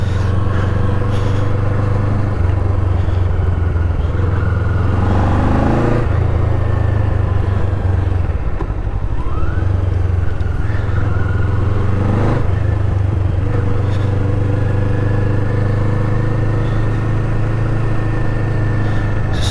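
Kawasaki Eliminator motorcycle being ridden, its steady mid-pitched engine drone continuous and close throughout, with brief rises in revs and wind buffeting, no talk.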